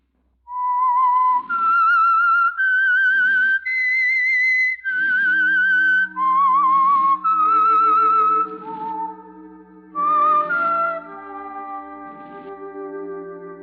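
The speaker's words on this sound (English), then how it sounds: "That whistle is your signal for the Signal Oil program" A lone whistled melody of sustained, wavering notes, loud and clear, joined near the end by soft accompanying tones: the theme signal of the 1940s radio program The Whistler.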